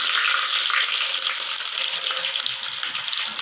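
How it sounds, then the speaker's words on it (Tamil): Dried chillies, curry leaves, garlic and mustard seeds crackle in hot oil, a loud, steady close-up sizzle with a spitting hiss throughout and no talking. "தாளிக்க போகிறோம் காஞ்ச மிளகா கருவேப்பிலை பூண்டு பெருங்காயம் இதுதான் கடுகு போதும்"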